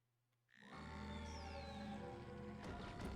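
A frog in the Wii game Zack & Wiki: Quest for Barbaros' Treasure gives a deep, droning croak that starts abruptly and holds steady for nearly three seconds, fairly quiet overall.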